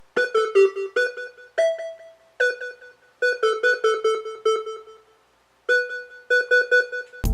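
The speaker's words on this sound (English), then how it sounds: "we also have this extra synth that shows up" Extra synth part from a song plays bright, plucky bursts of short repeated notes in rhythmic clusters, separated by brief gaps, close and clean with no voices.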